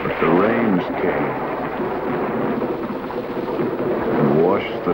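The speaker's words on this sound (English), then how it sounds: "But the rains came" Heavy rain falling with rolling thunder, a dense continuous roar overlaid by a narrating voice.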